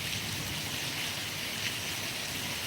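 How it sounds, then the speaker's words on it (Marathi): Heavy monsoon rain pours down in a steady, dense hiss that holds without pause. "हा पाऊस जो बरसतो"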